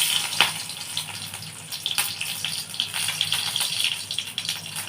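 Four or five garlic cloves fry in hot oil for a Bengali dish, giving a loud, continuous hiss and crackle with scattered sharper spits and pops throughout.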